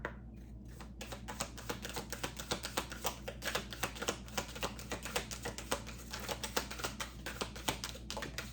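Rapid, dense clicking and riffling of tarot cards being shuffled, a continuous crisp flutter of soft taps close by with no talking.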